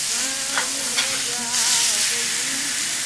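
Blackened catfish fillets fry in a hot cast iron skillet with a steady, close sizzle, while a metal spatula scrapes and pushes the pieces apart in a few brief scraping strokes.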